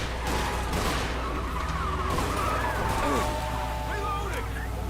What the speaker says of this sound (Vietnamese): Súng gì bắn mãi không hết đạn vậy